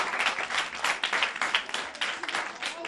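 Applause from a group of children in a classroom circle for a girl, dense clapping throughout, with some talk or voices mixed in.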